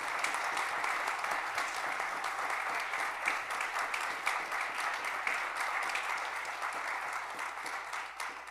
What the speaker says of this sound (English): Let's give all three of our young people a round of applause.